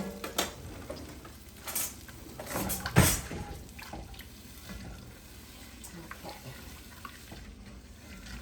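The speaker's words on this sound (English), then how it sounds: "Just gonna kind of stir this around, get some of it out the pan." Oxtails and broth stirred in a pan on the stove, with scraping and liquid swishing, a louder clatter midway and a faint simmer underneath.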